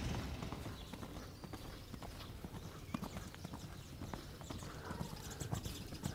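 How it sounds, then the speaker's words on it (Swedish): Riding horse galloping in a riding session, hooves drumming in a quick, steady rhythm, faint and somewhat distant under wind and broad outdoor noise. "Fin galopp. En riktigt härlig galopp den där hästen."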